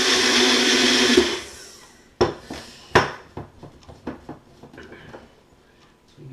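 A blender whirs loudly for about a second while mixing almond bread dough, then cuts out and is followed by a series of close clinks and taps of a utensil against the container.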